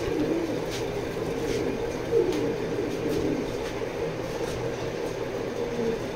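Pigeons coo in a low, continuous murmur from several birds close by, with soft bursts of wing or body noise scattered through; no voices, only a steady ambient bed.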